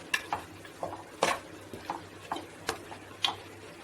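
Goat trotters being stirred with masala in a pan for a Tamil trotter curry, giving a run of about eight sharp scraping clicks in a steady rhythm, close and clear, with no talking.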